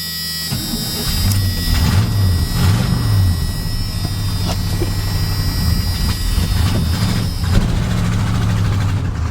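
A big block squarebody truck engine runs close and loud as the truck pulls away, a steady low rumble with slow rising and falling tones, with rattles and knocks over it and no talk.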